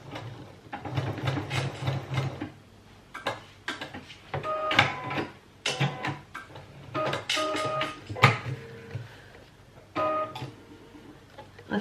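A sewing machine stitching seams on a garment project, running in uneven bursts of mechanical whirring and clicking with short pauses between runs, fairly close and with no talk.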